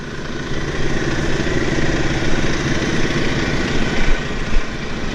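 A Başak 5120 domestic tractor with a particulate-filter exhaust runs at a steady diesel rumble close by, with no talk over it.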